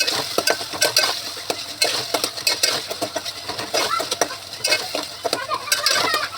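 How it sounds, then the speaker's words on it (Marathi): Chopped tomatoes frying with onions in a pan as a spoon stirs them, producing loud, close, rhythmic scraping and clinking strokes over a steady background sizzle, with no talking. "आता आपण याच्यामध्ये 2 कापलेले टमाटे टाकूया. टमाटे पण चांगलं फ्राय करून घेऊया आपण."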